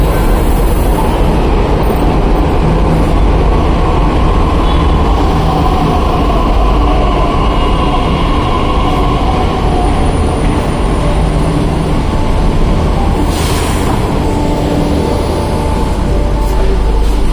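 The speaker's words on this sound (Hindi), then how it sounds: "आ गई मेट्रो भी" Loud, continuous rumble and whine of a Delhi Metro train rolling into a station, with a steady roar throughout and a brief high squeal near the end.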